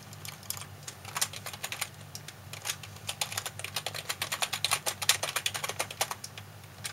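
Quick, irregular keystrokes patter on a computer keyboard, soft and close, in bursts that speed up toward the middle, over a low steady hum.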